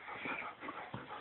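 A dog whimpers quietly in a few short, soft whines, faint against a muffled background.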